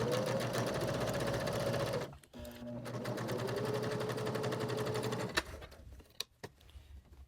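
A domestic sewing machine stitching pieced fabric sections for a Santa Christmas ornament, running in a fast steady whir for two seconds, pausing briefly, then resuming before stopping with a few clicks.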